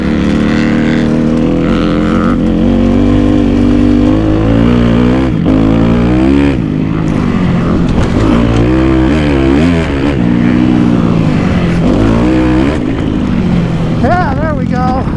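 A motocross dirt bike engine revs hard with rising and falling pitch through gear changes, including a quick double downshift, loud and close throughout, with a voice talking over it.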